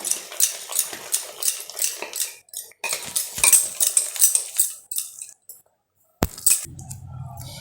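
Dahi vada (dahibara) batter whisked by hand in a bowl, with rapid rhythmic scraping and clinking strokes in steady bursts, a short pause, a sharp clink, then a low hum.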